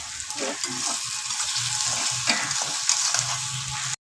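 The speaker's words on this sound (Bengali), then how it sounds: "রসুনটা একটু নেড়ে চেড়ে নেবে।" Garlic paste sizzles steadily in a pan over onions already fried red, with scraping stir strokes recurring throughout, close and continuous with no talking.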